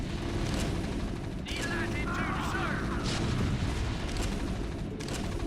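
Siege tanks firing artillery in StarCraft Remastered, heavy booming blasts recurring amid dense battle noise, with someone talking over the action.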